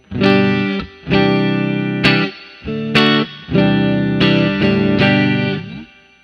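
A distorted electric guitar plays a series of sustained chords through a budget worship pedalboard, each ringing out with a lush, spacious ambient reverb tail.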